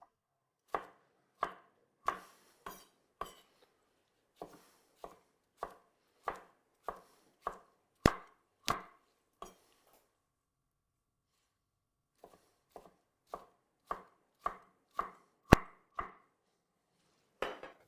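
A knife chops smashed cucumber into small pieces on a cutting board, in crisp, evenly spaced strokes that fall in two bursts separated by a short pause, close and alone.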